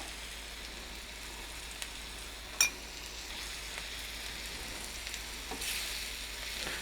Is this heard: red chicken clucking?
no